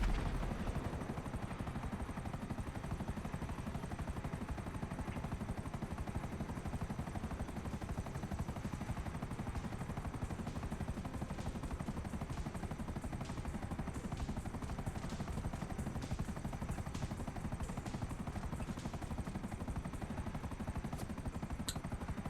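A Buzzard helicopter in Grand Theft Auto V drones on continuously with steady rotor noise, loud and close, with no talking throughout.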